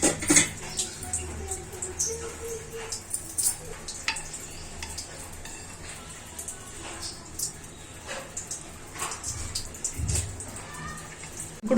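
A pot lid is lifted off traditional Telugu fish curry (chepala pulusu) simmering on the stove, with light clinks of the lid and utensils over a steady low bubbling and sizzle.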